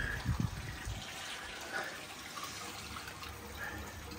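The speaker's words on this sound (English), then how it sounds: "Okay, so it's now backwashing. Try, trying to run a little bit more water back through the filter." Water running back through a garden pond filter during backwashing, a steady moderate wash of flowing water with a few louder splashes at the start.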